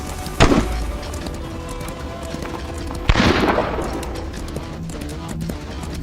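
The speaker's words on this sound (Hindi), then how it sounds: "गोली चलाओ" Two sharp, loud gunshots about three seconds apart in the film 1812: Ulanskaya ballada, each a broadband crack with a short tail, over a steady background rumble.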